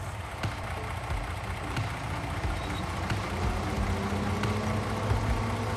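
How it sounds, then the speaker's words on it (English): A tractor engine in Farming Simulator with a TLX 48ft tanker attached idles steadily, a low rumbling drone with faint periodic clicks, constant and close for about six seconds with no talk. "gotta start the engine too"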